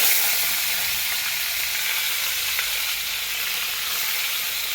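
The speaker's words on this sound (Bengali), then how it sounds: "তেলটা আমার গরম হয়ে গেছে, এবার আমি মাছগুলো একটা একটা করে দেবো" Koi fish fry in hot oil with a loud, continuous hiss and crackle of sizzling that stays steady and close throughout, with no talking.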